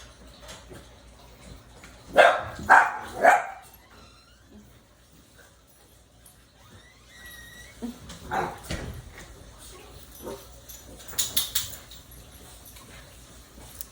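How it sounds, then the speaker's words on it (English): A few sharp dog barks burst out in a quick cluster, followed by quieter whimpers and yips spread over the rest of the stretch. "What are y'all barking at?"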